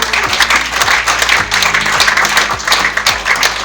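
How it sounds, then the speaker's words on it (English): An audience at a church-style speech gathering in Kampala, Uganda, applauds in a dense, continuous patter of many hands, loud and sustained, with some faint tonal background sound underneath. "Let's give a round of applause to Bishop Godson Carlo."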